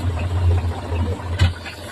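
A diesel mini tractor engine running a pesticide spray pump, a close, loud, low chugging hum that continues steadily with a brief knock near the end.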